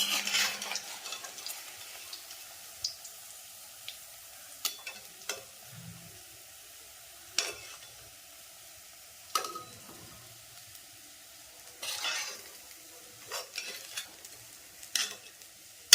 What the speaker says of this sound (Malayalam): കുറച്ച് മീനും കൂടെ ഇട്ട് നമുക്ക് ഫ്രൈ ചെയ്യാം